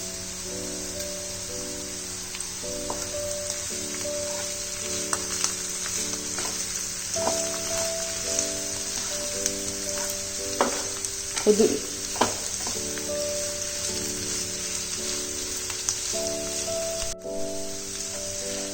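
Snake gourd fries in a pan with turmeric powder while being stirred. A steady close sizzle carries scattered scraping and clattering stir sounds, with no talking.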